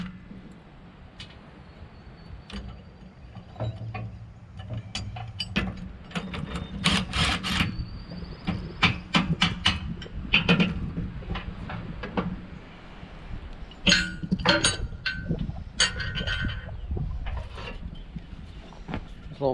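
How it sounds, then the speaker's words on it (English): Hand tools working bolts loose on a disk harrow behind a John Deere 4430, giving scattered metallic clanks, ratcheting clicks and scrapes at close range over a low background hum. "I'm gonna jerk these bolts out real quick so I can get this pin out of this."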